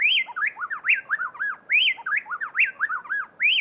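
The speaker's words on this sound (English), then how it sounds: "In Ecuador, plain-tailed wrens blend their voices so perfectly that it sounds to our human ears as if just one bird were singing." Plain-tailed wrens in Ecuador sing a tightly interlocked duet, loud and close, with rapid rising and falling whistled phrases repeating in a steady, bouncing rhythm that blends into what seems like one bird's song.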